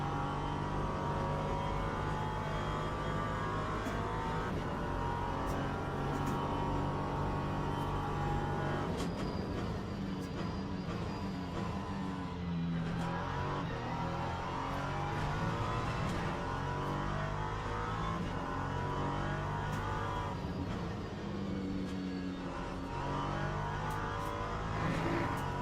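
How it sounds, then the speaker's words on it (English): An LMP3 prototype race car engine roars around Monza in a racing video game, revving high and steady with repeated gear shifts and dips as it brakes and accelerates, loud and continuous throughout. "No, David. This is the LMP3."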